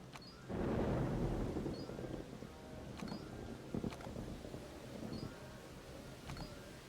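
A thunderstorm in the park-building game Jurassic Park: Operation Genesis brings a heavy low rumble that swells in and settles into a steady roar, with a few sharp clicks and thuds scattered over it.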